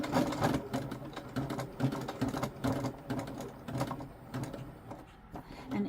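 A sewing machine set to a long straight stitch of about 2.8 to 3 runs through kilt fabric, needling into existing holes. It makes a close, continuous rhythmic chatter with slight uneven surges across the few seconds.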